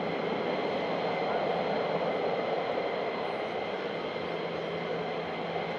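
Military jet aircraft turning and flying back over RAF Lakenheath, a steady loud broadband roar that holds at an even level throughout, with no distinct passes or gaps.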